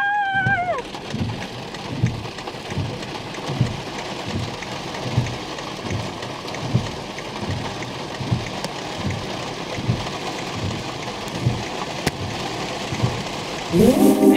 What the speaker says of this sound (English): Oh my god, it's raining harder and stronger.